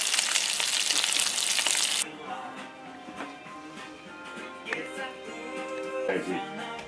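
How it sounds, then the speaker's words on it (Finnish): A single steak frying in a pan, a loud bright sizzle for the first two seconds that then drops to a quieter crackle with faint clinks and some background voices. "paistetaan yhtä pihviä tossa"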